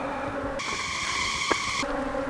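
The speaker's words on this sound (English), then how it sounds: "Man, these bees are after me." Bees buzz close around a beekeeper working an open hive, a bright droning hum that comes in sharply near the ear for about a second before fading back to a lower background drone.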